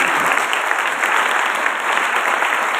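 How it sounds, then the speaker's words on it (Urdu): A church congregation bursts into loud, dense applause at a sermon, a thick continuous roar of clapping with no gaps, close and full throughout. "بدائیے زوردار تالی۔"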